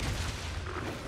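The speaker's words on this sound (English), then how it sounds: "That's a bomb." A bomb explodes in the Monster Hunter video game, a dense, deep booming rumble that fills the whole second at steady loudness, with no clear separate blasts.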